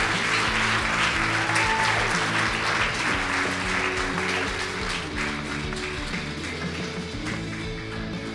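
A school-competition grand final audience applauds and cheers steadily and loudly for several seconds, a dense wash of clapping that fades slightly toward the end.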